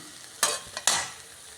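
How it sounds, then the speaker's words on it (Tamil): Idiyappam noodles stirred into a tomato mixture in a pan, with two distinct bursts of scraping and sizzling close by, a brief lighter scrape between them, and a faint background hiss. No voices. "இப்போ இதை இந்த தக்காளி கலவையில் கொட்டி கிளறிடலாம்"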